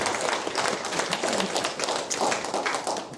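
A church prayer-breakfast audience applauding steadily after a hymn, dense overlapping claps filling the room without pause for a few seconds.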